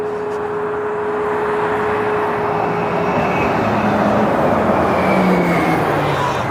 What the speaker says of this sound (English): There goes the 97 bus.